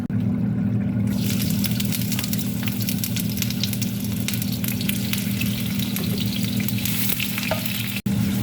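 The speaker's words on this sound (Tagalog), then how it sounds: "ka-brown muna natin ang ating sibuyas" Onions fry in a pan for a squid dish, giving a steady, loud sizzle that runs unbroken throughout with no talking.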